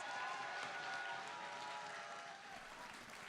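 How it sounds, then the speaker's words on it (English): An audience applauds steadily at a Splatoon European Championship esports event, a dense wash of clapping that softens slightly toward the end. "they deserve as much applause"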